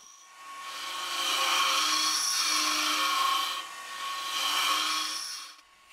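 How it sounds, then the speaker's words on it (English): Woodturning tool making slow, careful hollowing cuts inside a wooden goblet cup spinning on a lathe, giving a steady close scraping hiss that swells and eases in two long passes, with no talk. "we're going to take slow, careful cuts while hollowing out the cup"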